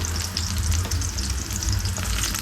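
Dried red chillies sputter and crackle in hot oil, a close, lively sizzle with occasional bursts and faint stirring throughout, and no talking.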